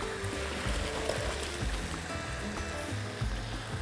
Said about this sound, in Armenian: քամում ենք